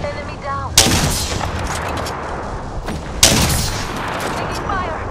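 Loud gunfire bursts in the video game Apex Legends, two sharp volleys about two seconds apart, each followed by a sustained rattle of shots and noise, with faint game voice lines in the background.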